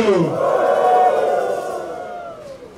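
A church congregation lets out a loud collective shout and cheer that swells and then fades over a few seconds, with voices blending into one roar.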